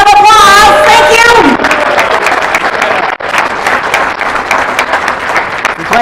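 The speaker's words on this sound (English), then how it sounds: "Let's give them another big round of applause." Audience applause at a Mardi Gras gala fundraiser, loud continuous clapping from a crowd, with a voice rising over it at the start and the clapping carrying on steadily afterward.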